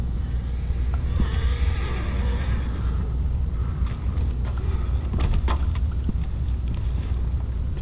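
In Red Dead Redemption 2, a horse whinnies loudly up close, followed by scattered clip-clopping hooves and rustling against a constant low rumble.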